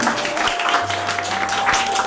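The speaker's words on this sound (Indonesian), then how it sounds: "Oke, tepuk tangan." Applause from an audience at a parish Bible-study retreat in a cathedral in Denpasar, a dense, steady burst of clapping lasting about two seconds, fairly loud and close, with a faint tone and a hint of voices underneath.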